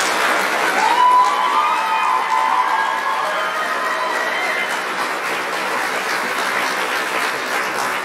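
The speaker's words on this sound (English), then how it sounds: "please, another round of applause?" A large audience at a holiday band concert bursts into sustained applause mixed with cheering, a dense, steady wash of clapping that holds at an even level for several seconds without fading.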